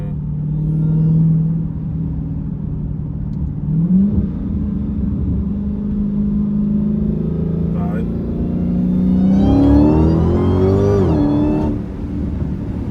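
An 800-horsepower Dodge Hellcat engine rumbles and climbs in pitch under acceleration, revving harder near the end, loud and close from inside the car, with someone talking over it.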